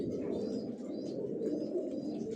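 Racing pigeons of a long-distance Johnson line cooing steadily inside a loft, a soft continuous low murmur of many birds, close and unbroken.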